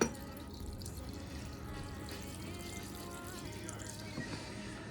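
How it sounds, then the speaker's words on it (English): Water trickles and pours steadily into a blender jar, quiet and close, with a low hollow rumble underneath. "Let's put a little bit of water."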